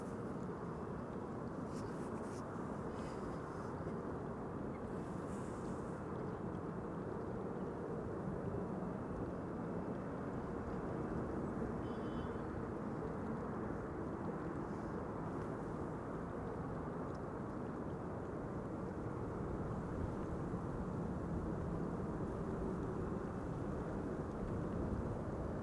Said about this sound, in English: I'm hearing traffic overhead. That's a twin jet, not too far away from me.